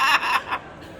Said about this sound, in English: This bird's laughing at me.